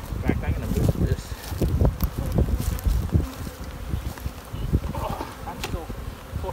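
Honey bees hum in a dense, steady buzz from an open hive still heavy with honey during a beginner beekeeping class, close to the microphone while a person talks over it throughout.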